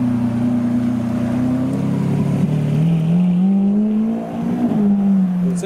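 Lamborghini Aventador leaving the Goodwood Festival car show at low speed, its engine giving a loud, close, steady drone with slight rises in pitch as it moves off, no talk over it.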